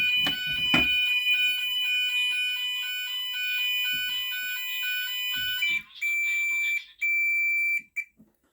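A GENT Vigilon fire alarm, set off from a pressed call point, sounds a loud, continuous electronic tone for several seconds, then switches to a pulsing on-off pattern with short gaps near the end, with no talk over it.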